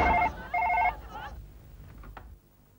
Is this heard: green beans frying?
no